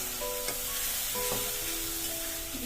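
Mustard and green chili spice paste frying in a pan, a soft continuous sizzle with a few sharp clicks of utensil stirring, close and quiet, no voices.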